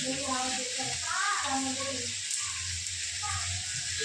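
A bay leaf fries in hot oil for vegetable biryani, a soft continuous sizzle heard beneath a person talking for most of the moment.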